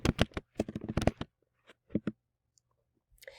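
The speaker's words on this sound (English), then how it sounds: "In a new tab, I'm going to type in EasyBib" Fingers typing on a computer keyboard, a quick run of close, crisp key clicks that thins to a few scattered taps and then silence, fairly quiet with no speech.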